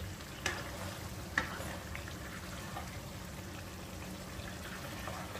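Chicken in pineapple sauce fries over high heat, a quiet, even sizzle with two small sharp clicks early on, otherwise a low steady hiss throughout.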